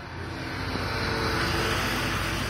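A motor pacing bike leading riders around the Alpenrose Velodrome track at about 28 miles an hour during a Fast Twitch Friday race, a steady, loud engine drone that swells slightly as it passes close by.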